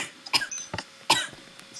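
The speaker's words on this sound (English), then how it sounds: "don't mind my coughing, please" Several sharp coughs in quick bursts, close and fairly loud, with brief pauses between them and no talking.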